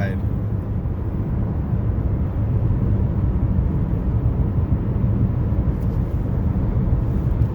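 Road noise inside a Toyota Highlander cruising at 70 mph: a loud, steady low rumble and broad whoosh of wind and outside noise, continuous and even throughout.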